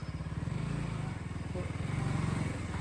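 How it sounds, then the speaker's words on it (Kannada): A KTM Duke motorcycle engine runs steadily with a low, throbbing exhaust note while being ridden nearby, rising slightly in loudness toward the end, with faint voices in the background. "ಗೈಸ್ ನಮ್ ಶ್ರೀನಿ ಗಾಡಿ ಓಡಿಸ್ತಾವ ನೋಡಿ, ಡ್ಯೂಕ್ನ."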